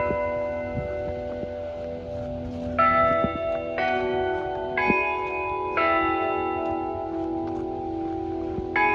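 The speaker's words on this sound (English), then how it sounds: "Look, that's the bell." Church bell ringing the Westminster chimes, several clear ringing strikes in sequence with long resonant decays layered over one another, loud and close.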